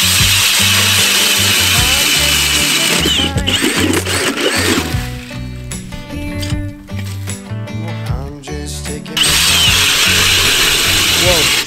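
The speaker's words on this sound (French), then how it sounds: "on va vraiment percer un trou pour voir ce que ça donne" A power drill bores a hole through lake ice, about 20 to 24 cm thick, for ice fishing in Québec; loud whirring grinding runs throughout, broken by choppier bursts in the middle, with people talking over it.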